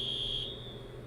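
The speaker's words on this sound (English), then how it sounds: "That was a fire alarm in my building." A building's fire alarm sounds as a continuous shrill electronic tone that shifts slightly in pitch partway through, heard alone without any talking.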